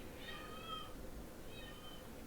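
A cat in a room meows twice, the two calls about a second apart, each a short, plaintive cry heard alone against a low background hum.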